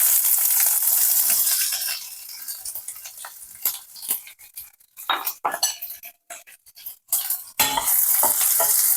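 Onion dropped into a hot tempering of urad dal and cumin seeds for a ridge gourd milk curry, sizzling up loudly at first, then broken by clinking spoon-on-pan stirring and scraping, close and without talk.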